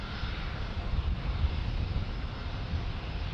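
An Allegiant Air airliner arriving from Medford, Oregon, at San Diego's airport roars past at night as a steady, loud broadband engine rumble heavy in the low end, alone without talk.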